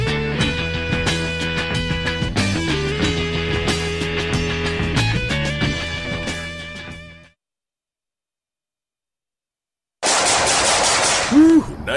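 In a radio commercial, a burst of machine gun fire comes as a loud, dense rattle at the end. It follows a stretch of music and a few seconds of silence.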